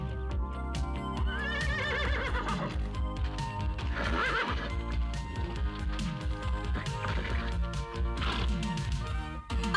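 A cartoon horse whinnies loudly and repeatedly over a swelling orchestral score, with hoof clatter and magical effects mixed in, in a Portuguese-dubbed She-Ra episode.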